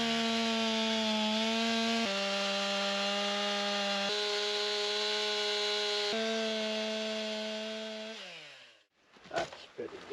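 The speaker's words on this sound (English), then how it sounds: "I got my chainsaw, cut out a bit of these" A chainsaw revs in a steady, loud drone with pitch shifts as it bites into wood, then winds down and stops, followed by a few knocks.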